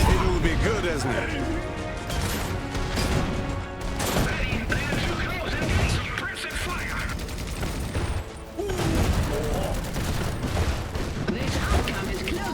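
Battlefield gunfire in Iron Harvest, a loud continuous fusillade of rifle and machine-gun shots with crashing impacts and mechanical clatter, a short lull near the end before firing resumes, game voices calling out over it.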